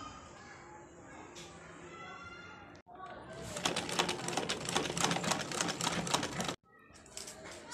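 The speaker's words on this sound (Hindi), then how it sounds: "नेक के किनारे किनारे सिलाई लगाते हैं।" Sewing machine stitching along the edges of a neckline, a rapid rattling, typewriter-like stitching burst lasting several seconds, close and fairly loud, preceded by quieter machine hum with brief gaps.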